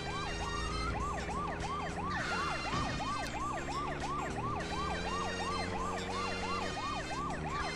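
Police car siren in the video game GTA 2, a loud, steady, fast-wailing electronic siren cycling without pause over engine noise, with no talking.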